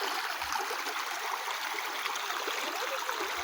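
A rushing mountain river in the Carpathians roars steadily and close by on a hiking route through the Kizi Ulohy tract, a dense, unbroken wash of water with no voices.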